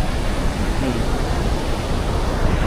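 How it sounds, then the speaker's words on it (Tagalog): Strong surf rolls in at Diniwid Beach on Boracay, a steady, dense wash of breaking waves close by with no clear pauses, filling the whole stretch at a fairly loud level. "Kaso malakas yung alon."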